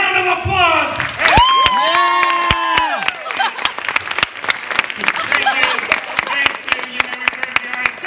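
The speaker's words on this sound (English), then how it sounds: "enjoy a tremendous round of applause." A crowd at a summer running camp hypnotist show breaks into applause with cheering and shouting, loud and sustained for several seconds, with voices calling out over the clapping.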